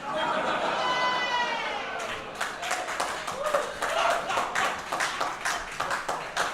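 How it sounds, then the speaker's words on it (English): A comedy club audience breaks into clapping and applause after a comedian's spoken line, the dense, crackling clapping swelling and continuing loudly to the end. "Hold your applause."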